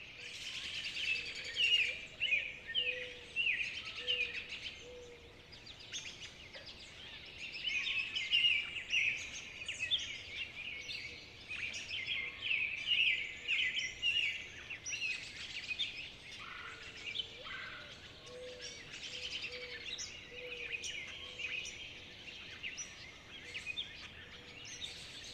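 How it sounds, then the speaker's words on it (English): Several birds sing and chirp outdoors, a steady chorus of bright, overlapping calls that rises and falls over about 25 seconds, moderately close, with no talking. "Listen to those birds, man."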